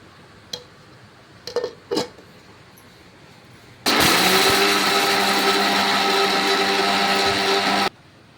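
A kitchen mixer grinder works on grated coconut and garlic. A few light clicks come first, then the motor starts abruptly with a loud, steady high whine and grinding roar that runs for about four seconds before it cuts off.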